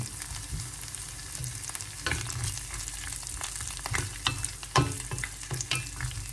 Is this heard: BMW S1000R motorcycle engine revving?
no